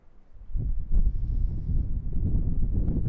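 Low, rumbling wind gusts buffet the microphone, building after a quiet start and continuing steadily, no voices.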